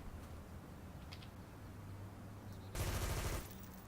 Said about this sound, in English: Now, somebody's shooting me, but I'm gonna just keep going.